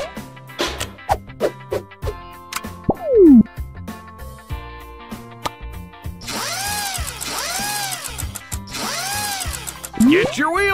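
Tractor wheels are fitted in the Mechanic Mike video game with game sound effects: quick ratcheting wrench clicks, a rising whoosh, metallic clanks and swooping chimes in bursts over about ten seconds. No one speaks.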